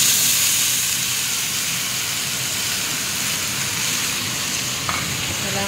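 Vegetables go into a pan of hot garlic and stir-fry with a loud, continuous sizzling hiss, with faint scraping of stirring beneath.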